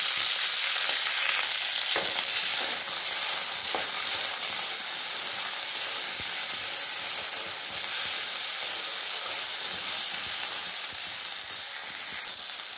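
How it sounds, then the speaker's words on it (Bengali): Drumstick stalks being stirred in hot oil in a pan, a dense continuous sizzle and hiss throughout with faint scraping of the spoon now and then, no voices. "এই যে ডাঁটাগুলো দিয়ে একটুখানি নাড়ি চাড়িয়ে নেবো 1 মিনিট মতন"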